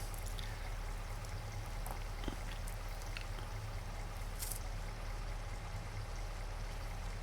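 Water pouring steadily into a tank in Farming Simulator 25, a continuous rushing trickle with low rumbling noise, steady and unbroken throughout with no talk.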